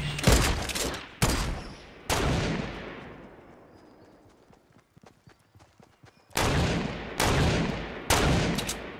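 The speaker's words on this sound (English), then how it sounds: "Hey, we're getting shot." Bursts of Fortnite gunfire rip out in loud volleys near the start, then trail off into a scatter of faint distant shots before another run of loud rapid volleys at the end.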